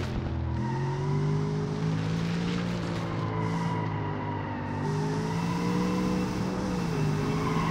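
Car tires in BeamNG.drive, a loud continuous engine drone with tire roll and scrub that shifts in pitch as the car moves, heard alone and up close.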